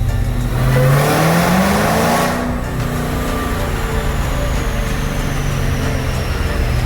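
A 426 Hemi engine fitted in a Hellcat revs at half throttle to about 4,000 rpm, rising quickly in a loud sweep, then dropping back to a steady idle with a faint whine.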